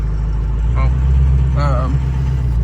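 A 6.0 Powerstroke diesel truck engine idles steadily at close range, a constant low rumble under brief speech.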